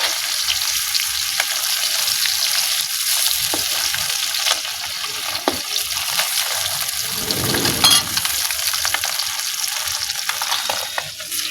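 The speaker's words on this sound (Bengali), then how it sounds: "মাছ ভাজলে হালকা করে ভেজে নিলাম।" Fish frying in a pan, a loud continuous close sizzle with occasional crackles and a brief scraping stir partway through, no talking.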